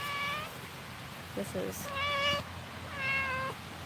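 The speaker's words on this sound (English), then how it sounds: "She's a two-eyed cat." A cat with one green eye meows three times in drawn-out calls, fairly close, over a low room hum, with a brief spoken phrase before the second meow.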